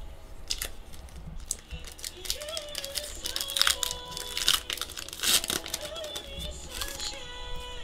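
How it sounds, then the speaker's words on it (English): A big pile of Pokemon trading cards being handled, with crinkly shuffling and rustling swells that come and go under a speaking voice. "let me remove this big pile of cards"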